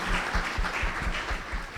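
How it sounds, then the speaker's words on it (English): A short burst of clapping from an audience at a university professionalism event, a brief, moderately loud patter of hands for a guest speaker. "So another round of applause for Judith."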